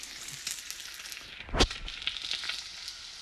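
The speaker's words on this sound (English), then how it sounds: "There's my bacon." Bacon frying in a lot of grease beside potatoes, a dense crackling sizzle with a sudden loud spattering burst midway, then continued popping nearby.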